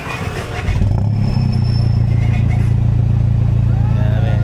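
A modified 2009 Ford Trekker's engine starts up and settles into a loud, steady rumbling idle with a low throbbing drone, close by and continuous.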